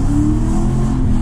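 An Aston Martin V8 Vantage engine revs with a loud, deep, steady roar heard up close, with a voice talking over it.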